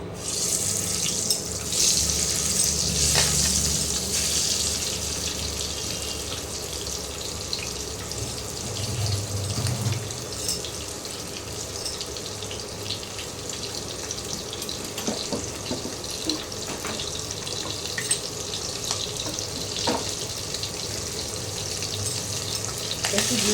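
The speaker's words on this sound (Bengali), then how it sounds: "ডিমগুলো একটু ভেজে নেব" Boiled eggs coated in salt and turmeric fry in mustard oil in a kadai, giving a steady, close hiss and sizzle that holds throughout with small crackles and no talking.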